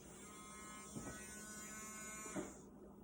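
A small battery-powered electric milk frother whisk gives a faint, steady buzz, then stops near the end.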